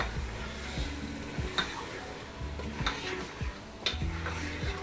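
Mutton pieces sizzling and frying in spiced oil with turmeric, chili powder and dried coriander in a pan, a steady crackling hiss with repeated stirring scrapes and utensil clinks at roughly one-second intervals, no talking.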